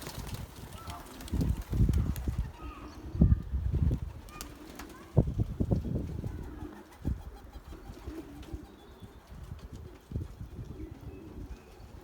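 Belgian racing pigeons leaving an aviary coo and flutter nearby, with wing flaps and soft scuffling that are busier at first, then thin out into quieter rustles.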